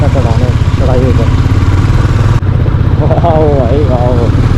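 A motorcycle engine labours loud and close as the bike climbs a steep off-road mountain track from Landour to Bhadraj, its revs rising and falling under intermittent talk.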